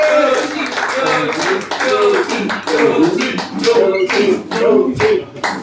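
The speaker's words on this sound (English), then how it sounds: "please give a round of applause for Yoti and his hair coming to the stage, everybody." Audience applause at a comedy show as a performer comes to the stage, steady loud clapping throughout with cheering voices and a speaker talking over it.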